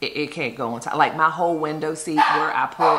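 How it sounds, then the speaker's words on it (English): A household dog yaps in short, sharp barks set off by a phone alert, close by and mixed in with someone talking continuously over it. "That's the dog barking simply because I just got an alert on my phone"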